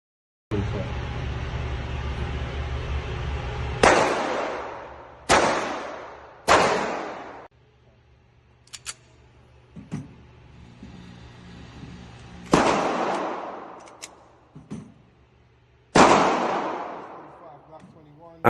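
Glock 21 pistol firing .45 ACP rounds at a shooting range: several loud, sharp reports spaced a few seconds apart, each with a quick decaying echo, over steady background noise.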